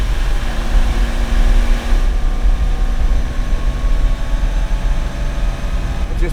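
A restored Lamborghini Miura S engine runs continuously, a steady low mechanical drone with gear whine, heard from inside the moving car at moderate level.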